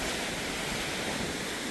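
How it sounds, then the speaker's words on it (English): Fast-flowing hurricane floodwater rushing past, a dense, steady roar of broadband noise with wind buffeting the microphone and no voices. "Look how fast this water is going."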